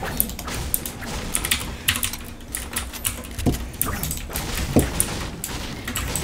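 Rapid typing on a computer keyboard in a home gaming setup, with a steady run of close, crisp key clicks and a few sharper taps, no talking.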